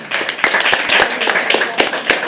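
Audience clapping at a live poetry open mic, dense overlapping claps from a room full of listeners, steady and close, with a voice briefly heard over it.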